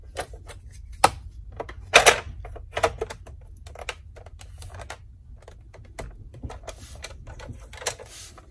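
Paper being cut for a handmade scrapbook card, heard as a string of sharp, close snips and clicks at an uneven pace with quiet pauses between them.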